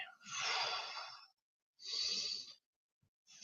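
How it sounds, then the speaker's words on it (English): Heavy, noisy breaths during a mobility workout, two long loud exhalations about a second each with a pause between, close to the mic and with no talk over them. "Not sure if you can hear my breathing."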